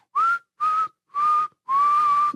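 Four sharp rising-then-level whistles, three short and a longer final one, used as a meme sound effect; loud, clear and isolated with brief silences between them.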